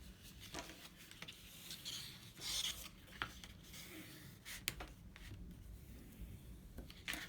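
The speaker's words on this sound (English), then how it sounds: "And burnish it." Folded paper being burnished for a book spine, faint rubbing and scraping strokes repeated in short uneven bursts, close and quiet, with no talk.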